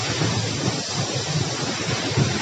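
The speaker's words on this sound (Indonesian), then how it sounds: "kita lagi ada di atas air terjun ya." The Burai Burai Luhuang waterfall in Malalak rushes steadily beneath a listener standing above it, a dense continuous roar of falling water with some wind buffeting and no voices.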